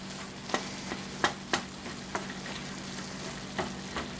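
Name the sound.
stirring garlic-seasoned food in a pan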